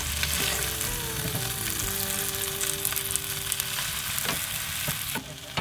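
Cheese frying in a pan gives a dense, steady sizzle throughout with a few small pops and scraping stirs, loud and close, with no voices.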